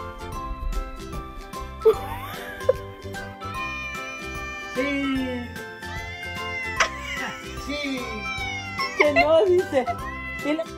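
A kitten meows repeatedly in short rising and falling cries across the clip, near and clear, over a faint jingle and people talking.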